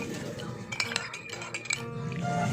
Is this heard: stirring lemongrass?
yes